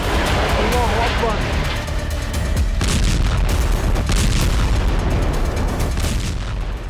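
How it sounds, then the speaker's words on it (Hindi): Explosions from strikes in southern Lebanon, caught in news footage: a dense, continuous roar of booms and blasts with crackling bursts, loud throughout and close, with a narrator's voice layered over it. "कहीं जोरदार धमाकों के साथ आग का गुब्बार उठता नजर आया।"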